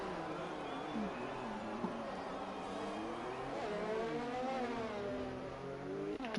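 F1 race car engine from a video game, revving hard on a hot lap at the Belgian Grand Prix circuit, a steady high-pitched drone with rising and falling gear pitch throughout.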